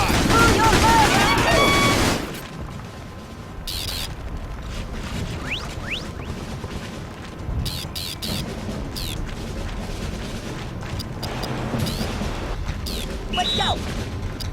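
Gunfire in a Battalion Wars firefight: a loud opening burst, then sustained rattling shots and sharp cracks with occasional booms throughout, while voices shout and talk over the battle.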